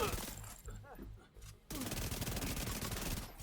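Rapid SMG fire from The Division 2 video game, a dense, loud stream of shots bursting in after a brief quieter lull and continuing steadily to the end.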